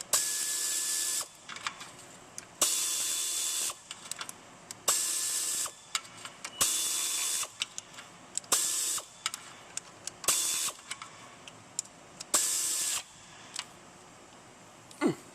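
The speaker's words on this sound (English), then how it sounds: "So I'm pretty happy with my marks, so I'm going to tighten up the tensioner here." Ratchet wrench tightening the timing belt tensioner bolts on a Lexus RX 1MZ-FE V6, heard as repeated bursts of rapid ratcheting clicks separated by short pauses, close and fairly loud with no talking.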